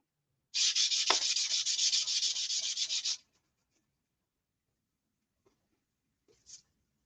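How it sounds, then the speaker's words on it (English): Close, steady back-and-forth sanding strokes on a surface go on for about three seconds in a quick, even rhythm, then stop. A few faint, brief rubs and taps follow in near silence. "That lets you know you got it sanded."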